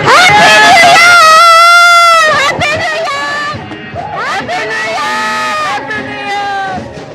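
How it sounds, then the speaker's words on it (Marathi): On New Year's Eve at Marine Drive, Mumbai, a loud nearby crowd whoops, shouts and cheers in sustained, overlapping voices, with excited chatter mixed in. "हा जल्लोष या ठिकाणी आपण मरीन ड्राइव्ह परिसरात बघतोय"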